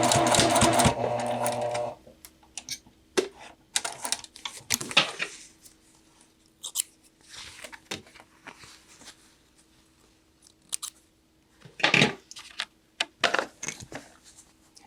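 Sewing machine stitching jacket collars together, a loud continuous run of needle chatter at first, then short bursts and clicks from back tacking and handling of the fabric, close by with no talk.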